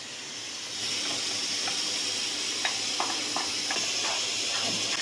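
Tomato puree goes into a hot pan of cooking pav bhaji with sliced capsicum, and a sudden steady hiss starts, with a few faint stirring clicks through the close, continuous sizzle and no talking.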